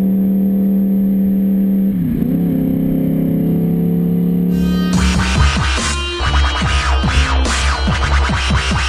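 A motorcycle engine runs steadily while riding, then its revs climb into a louder, busier roar with rising and falling harmonics, close and continuous throughout.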